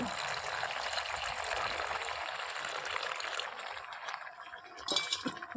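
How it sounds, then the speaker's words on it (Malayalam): Water is poured into a pot of homemade country-chicken curry, a soft continuous splashing hiss that fades near the end, followed by a light clink. "വെള്ളം ഒഴിച്ചു കൊടുത്തിട്ടുണ്ട്"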